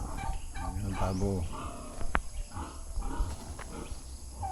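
Turkeys on a farm, kept in a netted poultry pen, let out a close, loud bubbling gobble followed by more calls and clucks, with faint human talk in the background.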